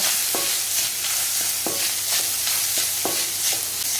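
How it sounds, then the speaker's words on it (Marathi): Grated coconut is stirred with cloves and cardamom in a hot pan, giving a soft continuous sizzle. A spoon scrapes the pan in repeated light strokes, close and steady, with no talking. "यात मी 1 वाटी नारळाचा चव घालत आहे. हा आता असा मस्त हलवून घ्यायचा."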